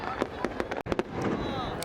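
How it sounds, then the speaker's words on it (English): New Year countdown fireworks in Singapore, a rapid series of sharp bursts and crackles in quick succession over a steady crowd murmur, with one brief dropout mid-way. "they were giving small breakout of the fireworks so that we don't get bored"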